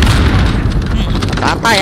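A grenade blast in the Call of Duty: Modern Warfare video game, a loud, deep booming rumble that fills the moment, with a voice speaking over it.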